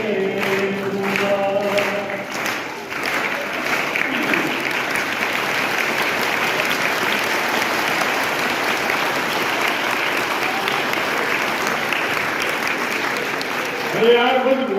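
An audience applauds a singer at a Rajasthan High Court welcome function, with sustained dense clapping throughout and brief speech at the start and end.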